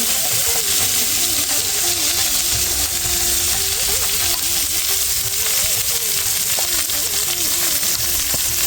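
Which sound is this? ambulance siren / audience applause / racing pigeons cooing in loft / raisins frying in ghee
raisins frying in ghee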